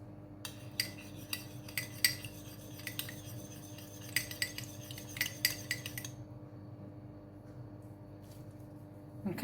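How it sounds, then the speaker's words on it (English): Walnuts being stirred with caster sugar and a little cold water in a bowl to coat them, giving quiet repeated clinks and scrapes of a utensil at an irregular pace for several seconds before falling still. "Mix it up, and then I'm just going to coat the walnuts."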